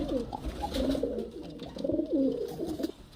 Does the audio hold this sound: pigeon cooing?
yes